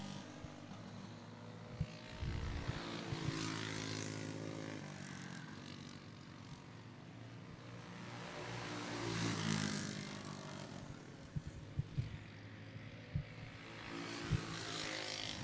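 Pro Stock Heavy class cars running on a dirt track at a race event, engines droning steadily from mid-distance with surging passes and crowd-ambient background, no talk.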